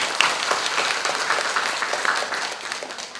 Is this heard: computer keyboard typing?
no